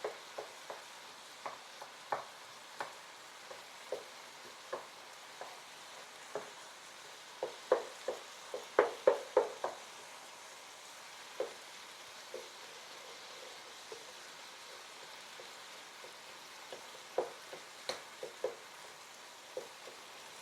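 Minced beef and Philly cheese steak fry in a pan with a soft, steady sizzle and scattered small crackles and pops, fairly faint and with no voices.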